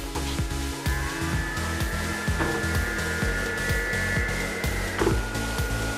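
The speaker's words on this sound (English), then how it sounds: "This thing has cooling fan here, another one on this side here, and it has one on the back of the light also" Cooling fans in a 30W LED moving head stage light whir in a constant, loud rush, overlaid by rapid rhythmic ticking and low thumps from the running fixture.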